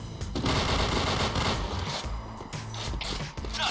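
Gunfire in the shooter game Point Blank, a dense continuous automatic burst with rapid rattling shots and mechanical clatter, loud and close, filling the whole stretch without pause.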